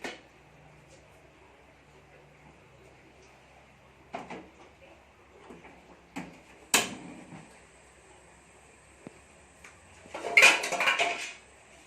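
Metal pots and cookware clatter while a steamer is set up for cooking a traditional Lampung snack, with scattered clanks and knocks ending in a louder burst of rattling metal, close by in a quiet kitchen.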